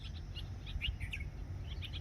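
Small birds chirping in short scattered bursts, faint and somewhat distant over a steady low hum.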